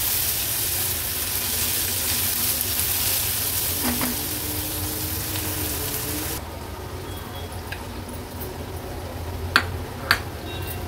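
Chopped onion with crushed ginger-garlic paste frying in oil over a low flame, a dense close sizzle that softens partway through, with a few light clicks of stirring.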